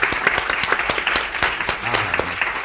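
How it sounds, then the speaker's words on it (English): An audience at an industry panel applauds the panelists with steady, even clapping, close and fairly loud, lasting throughout with a faint voice underneath. "just give our panelists a round of applause for being their authentic selves."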